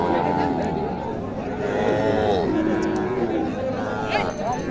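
Cattle low repeatedly at a busy livestock market at Dighir Hat in Naogaon, drawn-out moos rising and falling over a constant crowd murmur and background chatter.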